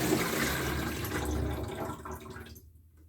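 Water gurgles and rushes steadily out of a Dometic SaniPottie 976 portable toilet once the plug is pulled, a continuous close draining wash that tapers off into near silence at the end.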